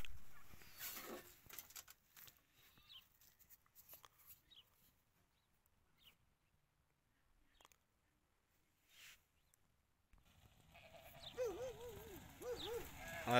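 Sheep in a Moroccan shepherd's flock bleat in a few wavering calls near the end, after a long stretch of quiet with scattered faint rustles and movement.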